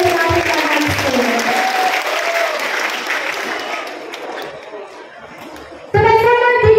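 Audience clapping for the teachers and workers at a high school event, loud and sustained broadband applause that thins out, then swells again near the end under an amplified voice.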